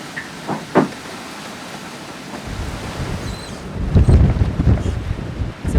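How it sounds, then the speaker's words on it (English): Strong wind buffets a sailboat at sea at night, a rushing roar of gusts and microphone buffeting that builds louder toward the end, with waves underneath. "It's a windy old night."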